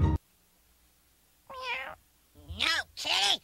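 A cat in a film meows three times after a short thump: one mid-length meow, then a pause, then two louder, drawn-out meows close together, clear and close with no talking.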